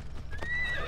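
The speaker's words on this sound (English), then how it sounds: "Good horse." Horse in the Assassin's Creed Odyssey video game neighing with a rising, wavering whinny over steady clip-clop hoofbeats, close and fairly loud, with no talk.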